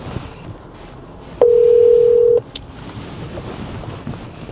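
A phone call ringing tone: one steady electronic ring lasting about a second, loud and close, over a windy outdoor background with no talk.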